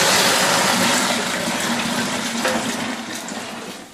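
Apple juice and brown sugar mixture poured into a container, a steady gushing liquid stream that slowly eases off over several seconds, close and with no talking.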